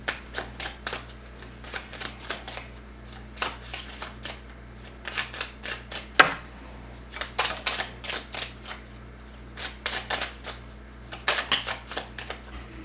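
Tarot cards riffled and shuffled repeatedly, a steady run of close, crisp flapping bursts with brief pauses, over a faint low hum.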